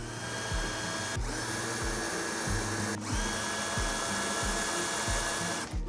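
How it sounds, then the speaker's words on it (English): A power drill bores pilot holes into a wooden track for a paracord bracelet jig, its motor whining continuously and close up with brief rises and dips in pitch as it bites. "We're going to drill some pilot holes into our track."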